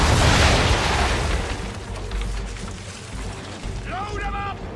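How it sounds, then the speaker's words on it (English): A ship's cannons fire a broadside in the Assassin's Creed 3 naval battle, opening with a heavy, rumbling boom that fades into a long low roll of water and creaking timber. "Bring her around broadside, and when all guns are on target, call fire. Fire broadside!"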